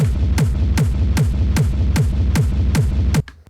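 A loud, steady four-on-the-floor techno kick layered with a bass rumble thumps under a dense low rumble for about three seconds, then cuts off abruptly into a fading tail.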